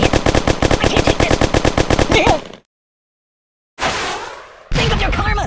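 Rapid automatic gunfire from the video game Kick the Buddy, a loud sustained burst of dense shots, then a gap of silence and two further noisy bursts.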